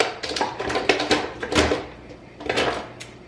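Cutlery and utensils clatter and clink inside a kitchen drawer in a short series of close, irregular rattles during home cooking while preparing a roast, with no talking.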